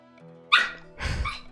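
A dog barking in the Radiant Historia: Perfect Chronology video game, two short bark-like yelps close together, the second fuller and lower, alone over a quiet game music bed.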